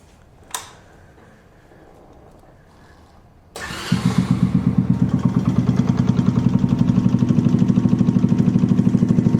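A small capacity motorbike engine is cranked after a quiet pause, fires up and settles into a loud, close, rapid idle with a steady pulsing putter that carries on to the end.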